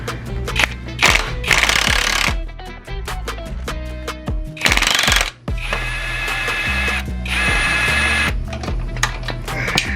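A wrench works a bolt on a Suzuki GSX-R750 motorcycle engine during an engine drop after a blown engine. Loud, close, rattling mechanical bursts of rapid hammering start and stop several times, separated by short pauses.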